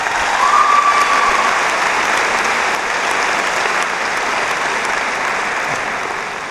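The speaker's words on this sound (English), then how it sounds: "I think another round of applause is necessary" An audience at a high school graduation ceremony in Dunkirk, New York, gives loud, sustained applause that fills the room evenly and fades slightly toward the end, with no voices over it.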